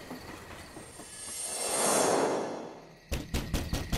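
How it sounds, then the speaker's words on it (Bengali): A train rolls in with a swelling rumble and a high wheel squeal that peaks, fades, then gives way to several knocking clunks as it halts at a platform. "বুঝতে পারলাম ট্রেনটা এসে থেমেছে কোনো প্ল্যাটফর্মে।"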